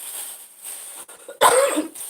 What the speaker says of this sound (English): I already told you guys I have an allergy cough